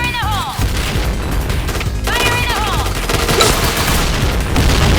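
Heavy, continuous grenade blasts and booming gunfire in the shooter game Point Blank crash together in a dense, loud barrage, with synthetic whistling sweeps cutting through the chaos.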